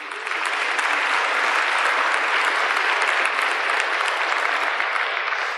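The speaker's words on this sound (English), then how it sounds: "Won't you give it a round of applause?" Audience at an advertising seminar applauding, a dense, even roar of clapping that rises quickly and holds steady at full volume for the whole stretch.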